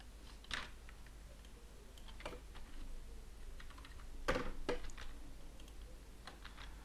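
Sparse keystrokes on a computer keyboard, a few isolated clicks spread out with pauses between them, quiet and close against a faint steady hiss.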